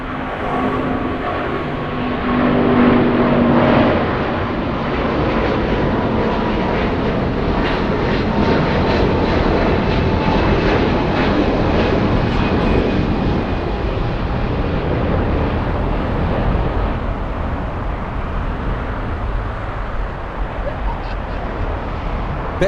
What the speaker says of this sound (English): Big 777 to Honolulu. United Airlines 1178.